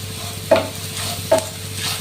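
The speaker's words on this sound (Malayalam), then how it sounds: "എല്ലാം കൂടി നമുക്ക് മിക്സ് ചെയ്തെടുക്കാം" Bitter gourd stir fry with chilli powder and curry leaves is mixed in a pan. Brief spatula scrapes, two sharp and a softer third, ride over a continuous close sizzle, with no talking.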